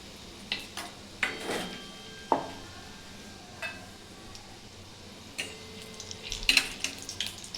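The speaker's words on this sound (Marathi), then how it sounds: "पटकन तेलामध्ये फुलतात आपले भजे।" Bhaji fritters fry in hot oil with a quiet, constant sizzle and scattered light clicks and taps of a utensil against the pan, close and low in level with no talking.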